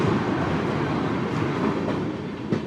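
Himgiri Express train from Howrah rolling along, a steady loud rumble of wheels and carriages with faint clattering and no talk, heard from inside the moving train.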